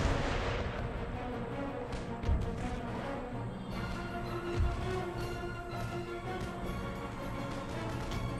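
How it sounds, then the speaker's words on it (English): Artillery bombardment in Empire: Total War, a dense, continuous roar of distant booming cannon fire and rumble that carries steadily throughout, with occasional heavier thuds and no voices. "Let's get our artillery to attack more conventional targets."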